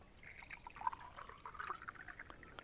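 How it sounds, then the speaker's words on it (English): Warm water is poured into a glass, a soft, steady trickle with small splashes and drips throughout, fairly faint and without speech. "pour some warm water here"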